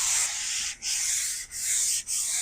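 Sandpaper rubbing steadily across the metal surface of an old jointer, close and loud in long back-and-forth strokes, each broken by a brief pause, with no voices.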